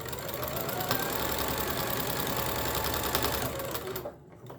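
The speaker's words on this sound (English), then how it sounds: "sewing that 1/4-inch seam right down the right side" A sewing machine runs a quick, steady 1/4-inch seam down the side of a scrap-fabric patchwork pillow piece, its rapid even chatter close and continuous before it stops abruptly near the end.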